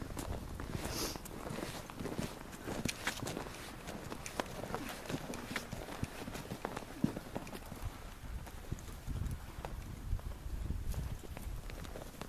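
Steady clip-clop of a 12-year-old quarter horse's hooves walking on a hard surface, close by, with an even rhythmic beat continuing throughout, plus light wind and faint background noise.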